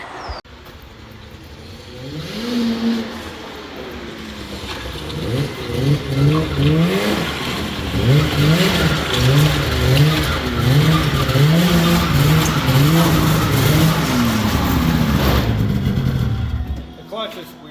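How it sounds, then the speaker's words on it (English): Snowmobile engine revving hard with a squealing clutch near a pond crossing, a loud continuous whine with rising and falling pitch sweeps that pulse rhythmically, close and dominant throughout. "The clutch is squealing"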